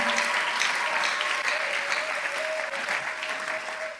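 A church congregation applauds after a sermon reading, steady and full clapping from many hands filling the room throughout, with a few voices mixed faintly underneath.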